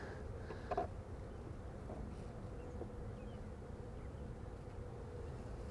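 Honey bees buzzing inside an opened beehive during a troubled hive inspection: a low, steady drone that is faint and continuous, with a brief knock near the start.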